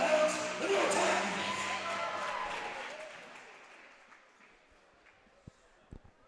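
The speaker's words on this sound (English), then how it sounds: "Give both teams a round of applause" Crowd applause in a high school gym for the West Hancock Titans and Fort Madison Bloodhounds varsity girls' basketball teams, loud and dense at first, then thinning out over several seconds, with an announcer's voice over it and a few sharp knocks near the end.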